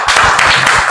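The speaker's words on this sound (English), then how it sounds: "Let's clap hands for him." Children clapping their hands together in a classroom, a dense burst of close, steady claps filling the short moment with no voices over it.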